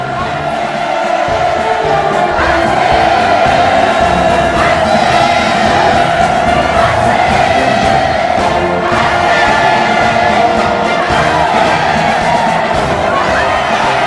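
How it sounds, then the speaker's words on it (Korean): A dense, loud crowd of soldiers' families cheers and shouts enthusiastically as they march into the square at a mass rally in Pyongyang, a continuous roar of voices throughout. "지금 군인 가족들의 대호가 열광의 환호를 터쳐오리며 광장으로 들어서고 있습니다."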